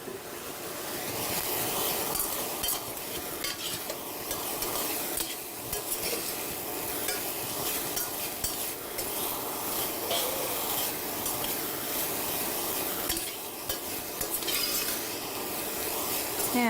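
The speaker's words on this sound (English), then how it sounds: "we're going to now start frying our vegetables" Vegetables frying in a pan during home cooking of orange chicken, a steady broadband sizzle with stirring scrapes running continuously and fairly close, no talking over it.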